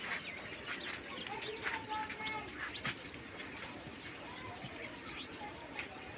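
King quail on a small farm, with soft repeated chirps and coos running under steady background noise, fairly faint and mixed with distant voices.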